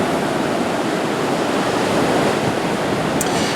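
Storm surf from Hurricane Hermine washes up the beach at Indian Rocks Beach, Florida, a loud, continuous roar of surging waves with no talking.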